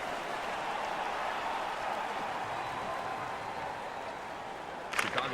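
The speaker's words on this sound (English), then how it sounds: "The crowd is ecstatic." A hockey arena crowd roars during an NHL 15 game, a dense, steady wash of cheering that holds at even loudness throughout, with a brief sharp clatter near the end.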